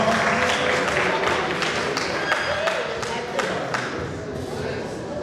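A crowd at a class reunion and anniversary event applauds, a dense wash of clapping that holds steady throughout with scattered louder claps and some murmuring underneath.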